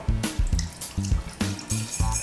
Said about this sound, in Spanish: Para nuestro siguiente paso llenaremos un plato de sopa con agua.